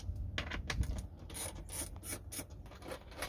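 A 3/8 socket wrench ratcheting bolts out of a boat seat pedestal, a repeated raspy clicking and rubbing in short strokes, close and moderately loud, with no talking.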